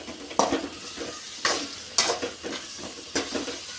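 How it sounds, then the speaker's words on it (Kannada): Onion and spinach fry in a pan for a palak gojju, with several clear scraping stirs of a utensil over a steady sizzle, close and fairly loud. "ಇದು ಚೆನ್ನಾಗಿ ಫ್ರೈ ಆಗಬೇಕು."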